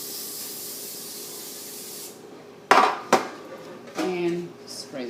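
Steady hiss of vegetable oil cooking spray coating a cake pan for about two seconds, then a few sharp clatters of pans being handled close by.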